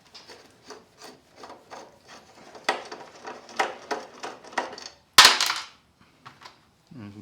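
A screwdriver works Phillips head screws out of a chrome piece on a Honda Goldwing GL1500, giving a series of short scraping, ratcheting turns, then a sharp loud clack as a part comes loose, followed by a few quiet taps.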